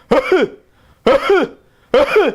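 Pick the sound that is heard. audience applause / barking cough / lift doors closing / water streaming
barking cough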